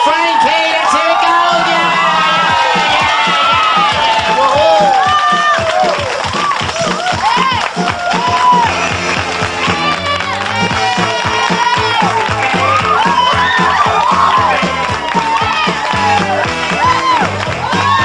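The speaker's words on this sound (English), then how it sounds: "A nice big round of applause." An audience at a stage show claps and cheers loudly for about eighteen seconds, with whoops and shouts rising over continuous applause and a voice talking at times.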